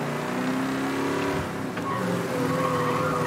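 A car driving in the game Mafia: Definitive Edition, its engine droning and revving steadily at close range with rising and falling pitch throughout, alone with no talk.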